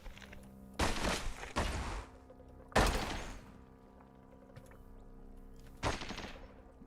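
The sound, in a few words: chain gun turret firing in the video game Caves of Qud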